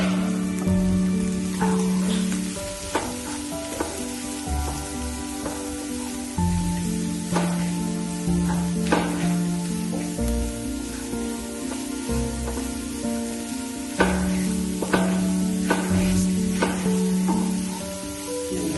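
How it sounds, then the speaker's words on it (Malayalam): Finely chopped onions fry in hot oil for an egg curry, a steady close sizzle broken by repeated stirring scrapes and a low rhythmic hum underneath, with no speech. "ഒന്ന് ചൂടായി കഴിയുമ്പോൾ നമുക്ക് കുഞ്ഞായി കഴിഞ്ഞ് വെച്ചിരിക്കുന്ന സവോള ഇട്ട് കൊടുക്കാം."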